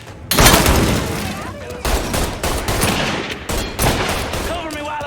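Rapid bursts of automatic gunfire in the Mafia 3 video game, loud and close, with repeated volleys and short gaps, and no talk over them.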